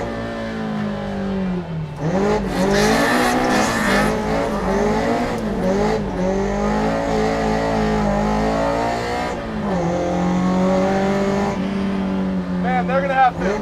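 A Toyota AE86 drifts on a wet road, its small engine revving steadily in third gear close by, with loud continuous engine drone, pitch swells and dips as throttle changes, and tire noise throughout; a person speaks intermittently over the car.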